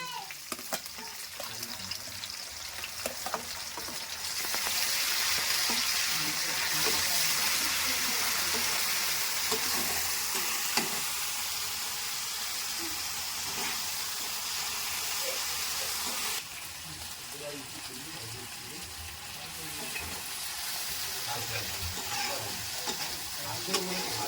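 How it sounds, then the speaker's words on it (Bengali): Ginger-garlic paste frying in a wok (kadai) with onions and green chillies, a steady broadband sizzle that swells louder after a few seconds, with faint stirring scrapes throughout. "এবার দেওয়া হচ্ছে এতে আদা রসুন বাটা।"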